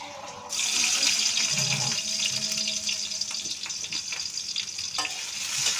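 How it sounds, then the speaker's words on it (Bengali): Leafy greens (shak) fry in a pan with a steady, bright hiss that starts abruptly after a short pause and keeps going, close and fairly loud, broken by a few soft stirring knocks and no talk. "শাকটা প্রথমেই ভেজে নিই"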